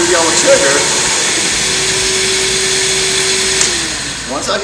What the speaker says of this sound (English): The solution's going to flow, my brush is going to spin, and my vacuum kicks on.